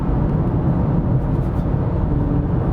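A 2020 Nissan GT-R 50th Anniversary twin-turbo engine rumbles steadily with a deep, continuous low drone, loud and close, with no talking.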